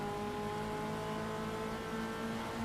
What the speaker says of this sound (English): Just listen to the car, just trying different gears, try and get a good run.